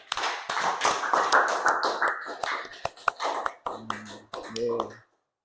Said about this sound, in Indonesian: tepuk tangan untuk Kila